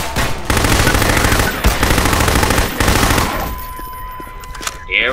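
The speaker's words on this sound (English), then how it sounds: "Defender fully automatic weapon with grenade launcher acquired." Sustained automatic weapon fire in Half-Life, loud rapid bursts with brief gaps, tapering off near the end into quieter background.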